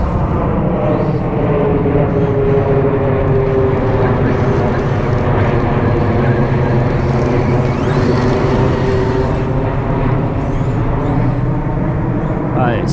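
A Traxxas XRT radio-controlled monster truck drives close by with a steady, loud electric motor whine and rumble running the whole time, pitch shifting slightly as it turns, with speech nearby.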